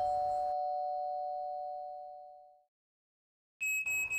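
A doorbell chimes with one sustained tone that slowly fades out. After a gap, a second bright chime starts near the end.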